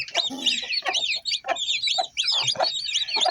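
Newly hatched chick, raised by a pigeon pair, peeps in rapid high chirps among clucking fowl at close range, with short gaps between bursts and no talking.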